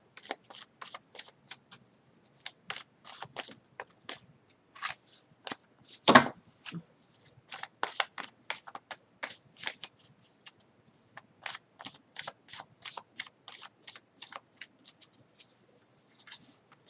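Tarot cards are shuffled and drawn by hand in a quiet room, a long run of quick, crisp riffling flicks and soft slaps, with one louder knock partway through.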